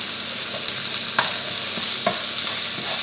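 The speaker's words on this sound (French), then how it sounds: "je vais faire revenir mon ail, mon oignon et mon échalote" Garlic, onion and shallot sautéing in a pan with chicken juices, a loud close sizzle broken by a few sharp spatula scrapes and stirring knocks, no voices.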